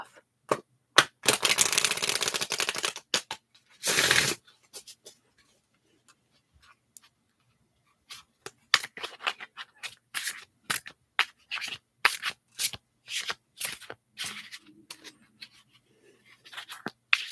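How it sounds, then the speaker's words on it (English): Cards are riffled in a buzzing flutter, then come a quieter pause and a long series of sharp, irregular card clicks and snaps nearby. "I'm just going to shuffle the cards"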